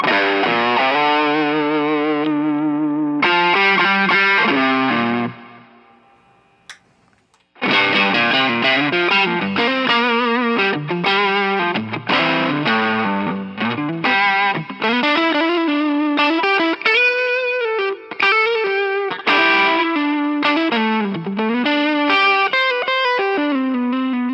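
Electric guitar played through a Love Pedal Kanji Eternity overdrive pedal, gritty sustained chords and then a busy stretch of distorted riffs and bends, loud and close, after a short pause.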